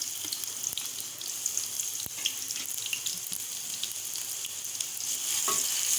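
Chopped onions go into hot oil in a home kitchen pan over medium to high flame, giving a steady bright sizzle with scattered crackles and a few clinks of stirring, no voice.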